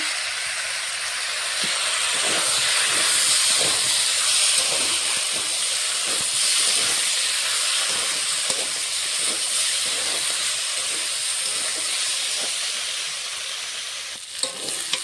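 Vegetables sizzle steadily in a pan with a ginger, cumin and green chilli paste, a broad hissing fry with faint stirring scrapes and occasional pops, moderately loud and unbroken, with no one speaking.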